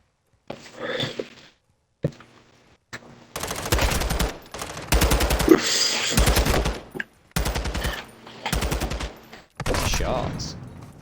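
Bursts of rapid automatic gunfire during a competitive Call of Duty match, several loud rattling volleys of a few seconds each, separated by short pauses and brief single shots.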